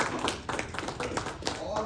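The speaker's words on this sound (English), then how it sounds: "Maybe we could give them a little hand" Scattered clapping from a small audience honouring successful women entrepreneurs, with uneven hand claps tapping irregularly over a steady background and some talk mixed in.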